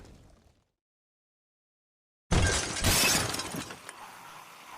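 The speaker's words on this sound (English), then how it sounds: "The window of the inn shatters" An inn window's glass shatters in one sudden loud crash after a stretch of dead silence, followed by a scattering spray of falling shards and lingering rumble.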